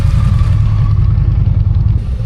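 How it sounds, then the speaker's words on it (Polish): Motorcycles pass on an Arizona road with a loud, steady engine rumble and low drone, close and continuous, with no speech. "Jadą, jadą motory"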